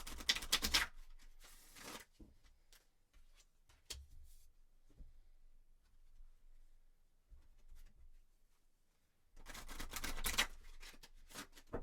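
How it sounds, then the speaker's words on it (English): Quiet, papery shuffling of tarot cards: a few sharp riffling bursts at the start and end, with soft scattered taps and rustles between. "And I'm just going to shuffle a few more times,"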